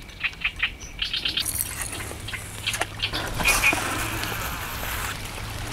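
Birds chirp in quick, repeated bursts near a rainy fishing spot, faint and somewhat distant, with soft rain patter and a low background rumble continuing afterward.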